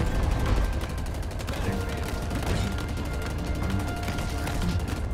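Turret gunfire in the video game Halo Infinite, a rapid continuous stream of loud automatic shots with heavy low booms underneath, close and sustained, with a voice talking over it.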